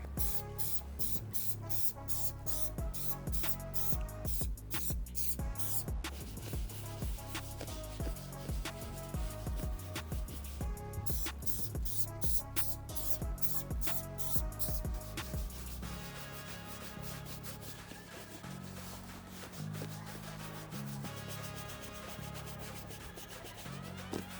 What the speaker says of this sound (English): I went back and forth about 4 to 5 different times, brushing it in.